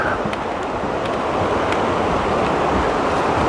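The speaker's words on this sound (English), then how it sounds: "And this is the Peabody River." The Peabody River rushes below a suspension bridge on the Appalachian Trail, a dense, steady roar of flowing water with wind buffeting the microphone, no voices.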